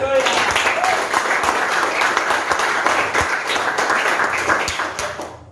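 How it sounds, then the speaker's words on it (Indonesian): Audience clapping at an Indonesian church service, a dense steady wash of many hands sustained for about five seconds before tapering off at the end. "Tepuk tangan dulu."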